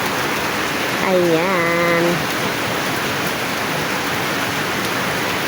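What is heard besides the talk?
heavy rain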